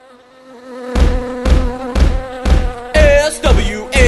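A buzzing bee swarm sound effect in a podcast segment plays as a steady insect drone, broken by repeated loud, evenly spaced thumps roughly every half second, loud and close.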